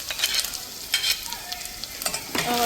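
Chopped garlic and ginger sizzle in oil in a pan for Manchurian gravy, close and crackling, with scraping stirs of a spoon breaking through the frying hiss at intervals.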